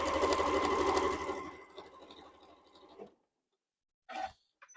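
A sewing machine stitches a 1/4 inch quilt seam, a fast steady mechanical whir up close that slows and stops after about three seconds, followed by a short silence and a brief clatter.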